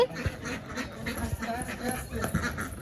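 Several ducks quack repeatedly nearby, short nasal calls coming in an uneven rhythm.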